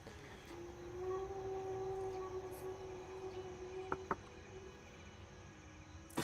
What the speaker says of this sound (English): Is it faster to wait for the train? Is it on its way back?